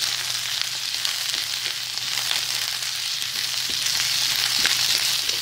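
Cauliflower and onion fry in a pan for a mixed vegetable and spinach curry, giving a steady, close, continuous sizzle with faint stirring clicks throughout and no talking.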